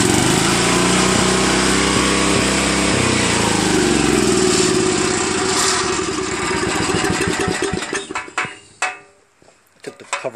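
A Briggs & Stratton small engine fitted with a replacement one-piece Flojet carburetor runs loud and steady close up, then sputters and cuts out in uneven bursts toward the end, with loose cover rattle.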